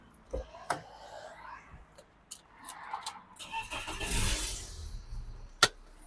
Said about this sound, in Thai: สตาร์ททีเดียวติดนะครับ เครื่องเดินนิ่งเรียบนะครับ